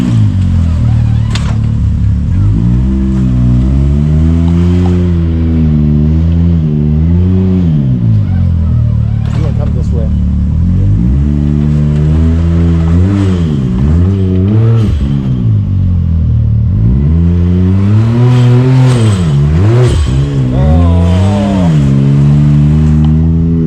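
Can-Am X3 off-road vehicles fitted with lockers climb a rocky trail obstacle, engines revving hard and rising and falling in repeated bursts throughout, loud and close, with occasional clatter and brief voices.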